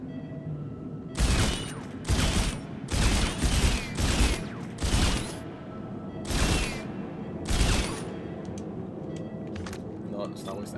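A weapon fires in Dead Space 2 in a series of loud, spaced blasts, roughly eight in all, with irregular gaps and a quieter low background between them.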